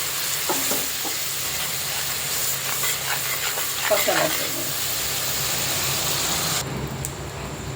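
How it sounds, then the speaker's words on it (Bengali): Spice paste with turmeric and a splash of warm water frying in a kadai for a chicken curry, a continuous close hiss and sizzle with scattered stirring clicks, slightly quieter near the end. "এক চামচ হলুদ দিলাম ভালোভাবে মশলাটা একটু কষে নিতে হবে"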